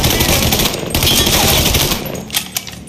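Dense gunfire rattles through a Mafia 3 video game fight, loud and close, with overlapping bursts that thin out into a few separate shots near the end.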